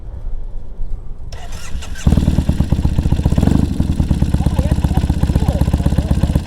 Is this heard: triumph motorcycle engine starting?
yes